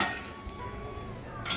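Hot sweet potato and rice flour dough is mashed in a vessel, giving soft scraping and dull utensil knocks against the pot, close and quiet with no talking.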